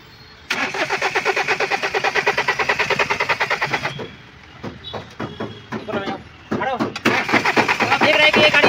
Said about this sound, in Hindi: तो मैं आपको दिखा रहा हूँ कितना देर तक क्रैंकिंग करने के बाद स्टार्ट हो रहा है।